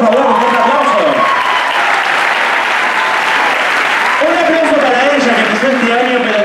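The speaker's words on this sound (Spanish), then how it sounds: "Natalia Parra, por favor, un fuerte aplauso." Loud, sustained applause from a dance-show audience for dancer Natalia Parra, filling the whole stretch with dense clapping while an announcer's voice runs over it near the start and again toward the end.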